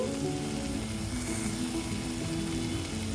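Spice masala frying in a pan for a curry, producing a soft, even, continuous sizzle at close range with faint stirring and no voices.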